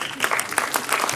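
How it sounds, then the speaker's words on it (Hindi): Audience at a foundation gathering applauding, a brief dense patter of many hands clapping, fairly loud and continuous. "इनके लिए भी जोरदार तालियां बजावें।"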